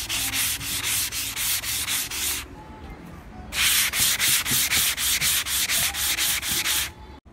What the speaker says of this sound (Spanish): hemos terminado de lijar